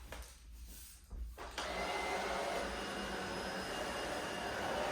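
A Tineco S10 cordless vacuum running steadily on a rug, picking up bits of dog food, with a brief lower start before the motor's whine settles into a continuous, close, loud hum.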